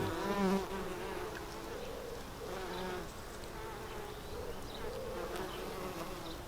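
Steady insect buzzing of several bees hovering around garden flowers close by, a continuous drone with small swells and dips, no voices.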